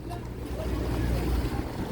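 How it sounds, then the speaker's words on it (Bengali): A fishing trawler loaded with hilsa pulls in to dock at Chairman Ghat fish landing in Hatiya, Noakhali, with a low, steady engine rumble mixed with wind noise and water. "এই ট্রলার ভিড়ছে মাছ নিয়ে"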